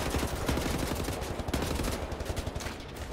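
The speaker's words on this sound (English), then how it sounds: "I hide around the corner until they stop firing." Dense, continuous enemy gunfire in the shooter game Wolfenstein: The New Order, rapid automatic bursts and overlapping shots filling the scene loudly without a break.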